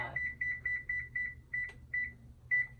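An electronic oven control panel beeps repeatedly as the temperature is set to 425, giving a series of short, clear tones in quick pairs and runs with brief gaps between them in a quiet kitchen.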